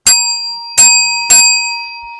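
Three bright, ringing bell strikes, each decaying with a clear metallic tone, sounding close and alone in a quiet room.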